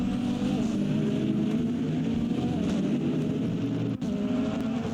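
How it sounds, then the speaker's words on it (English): Race cars including a BMW and a Callaway Corvette battling on the Indianapolis road course, a continuous loud engine drone with layered tones, sustained throughout with a brief dip near the end. "There's a 37 Callaway Corvette trying to get into this battle."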